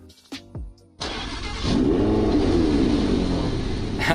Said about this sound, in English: So let's get inside and start the engine.